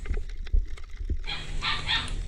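A puppy gives a few short, high yips and whimpers, close by, over some background rustling and clatter.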